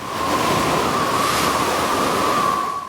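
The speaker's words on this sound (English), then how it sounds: "The greatest test came during a hurricane off Cape Horn." Hurricane wind and heavy waves at sea off Cape Horn, a loud unbroken rushing roar of surf and gusting wind with a faint whistling tone, steady for the full few seconds.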